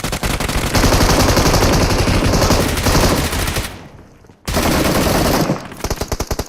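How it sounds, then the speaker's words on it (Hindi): UMP submachine gun in a battle royale video game firing long, rapid automatic bursts, loud and close, with a brief pause midway before the rattling fire resumes. "मैंने यहाँ पे यूएमपी की पूरी बुलेट फूंक दी"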